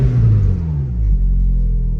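A Vauxhall Cavalier SRi engine idles with a loud, steady low rumble that shifts slightly in pitch partway through, heard alone without any voices.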